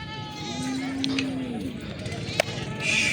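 A goat bleats once at a busy livestock market, a single drawn-out call heard over crowd noise and people talking nearby.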